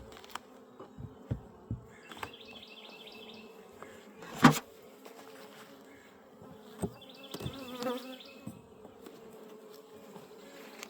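Honey bees buzz steadily around an opened hive during an inspection after the super and brood boxes were swapped, a close, continuous drone with occasional knocks and handling sounds.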